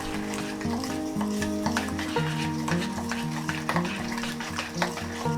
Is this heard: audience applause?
no